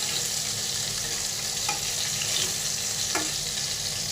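Large-cut potato pieces fry in hot oil with a steady, dense sizzle throughout. A couple of faint clinks of a utensil break through, and no one speaks.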